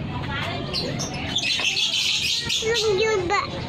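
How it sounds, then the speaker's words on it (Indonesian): Birds chirping and tweeting among background chatter and children's voices, with a whistled call near the end. "Iyalah banyak ya burungnya ya"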